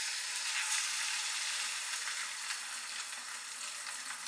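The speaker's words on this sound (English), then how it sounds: "We can go ahead and drop the egg in." An egg fries in a pan beside toasting tomato slices, giving a steady, bright hiss of sizzling oil that stays constant and fairly quiet, with no voices.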